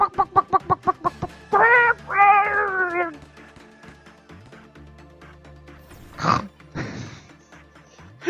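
A chicken-like creature in the game Lobotomy clucks in a quick run of sharp pulses, then gives drawn-out squawking calls, followed later by a couple of noisy bursts, all fairly close and loud.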